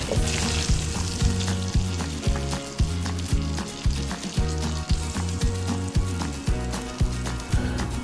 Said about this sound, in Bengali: মাছের টুকরোগুলো ভাজা শেষ হয়ে এসছে।